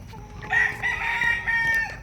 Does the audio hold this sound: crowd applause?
no